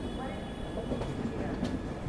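The Garib Rath special express from Dhanbad to Jammu travels along, with a steady, muffled rumble of the train from inside the coach and faint rail noise beneath a speaking voice.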